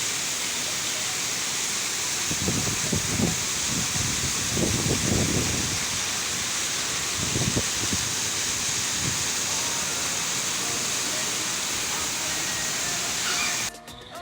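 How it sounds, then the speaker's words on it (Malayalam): Steady broad hiss of heavy rain and wind throughout, with a few brief bursts of faint voices partway through before the noise cuts off. "നല്ല കാറ്റും മഴയും"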